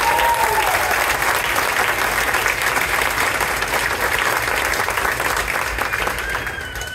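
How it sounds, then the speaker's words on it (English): An audience claps steadily in a theater after a second-grade play, a dense, sustained round of applause that fades toward the end. "Let's have one more round of applause for you."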